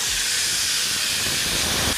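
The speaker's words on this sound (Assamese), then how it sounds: "চিটি মাৰিছে যে গোন্ধ পাই ভোক লাগি গৈছে" A pressure cooker on a gas stove releases steam in a steady, fairly faint hiss that holds evenly throughout without breaks.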